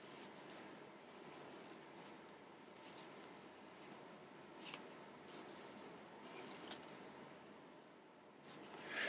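Pen or marker scratching out a small table on paper or a board, soft continuous scribbling strokes, close and quiet, with no voice.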